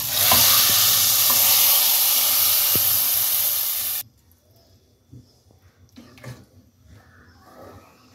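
A hot tempering of softened chillies poured into dal for achari dal gives a loud, steady sizzle and hiss for about four seconds, then cuts off abruptly, leaving faint stirring and clinks.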